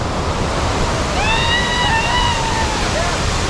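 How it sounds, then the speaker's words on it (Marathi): Barki waterfall gives a loud, continuous broadband roar of falling water, and a bird chirps briefly over it midway. "धबधबा दाखवतोय."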